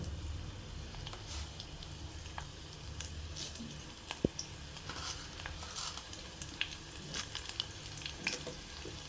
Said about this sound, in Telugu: ఇదంతా బాగా ఫ్రై చేయాలండి.